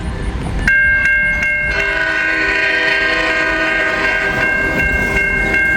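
Light engine locomotives on old B&O and Pennsylvania lines approach with a loud, sustained multi-tone horn after a few short clicks, over a steady close rumble of engines and wheels.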